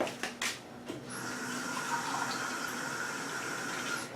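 Water poured into a measuring cup while making a salt-water soak for cut apples, a steady close hiss of running liquid lasting several seconds after a few brief clinks at the start.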